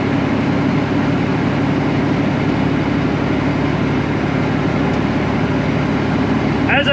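A 500-horsepower Detroit engine, making about 1,600 foot-pounds of torque, hauls a truck up a hill with a loud, steady low drone heard from inside the cab.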